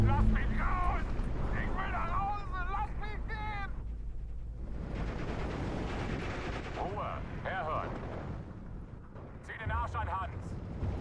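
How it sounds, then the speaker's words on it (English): Machine gun fire and explosions from the WWII strategy game Steel Division 2: a dense burst of loud, crackling gunfire in the middle, with in-game voices and battle noise before and after. "The MG is just going to keep blasting"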